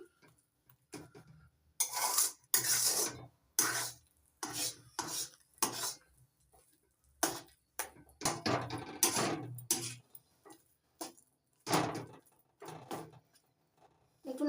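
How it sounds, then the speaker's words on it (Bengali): Amla stirred in a pan over a medium gas flame makes a series of close scraping and clinking strokes in irregular bursts, with short quiet gaps between them and no talk. "নাড়াচাড়া করে নিচ্ছি"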